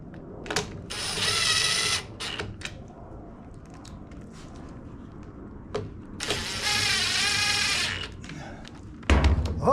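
A socket wrench ratchets on an MTD Yard Machines push mower in two rapid clicking bursts of about two seconds each, close up, with small tool knocks around them and a louder clunk at the end.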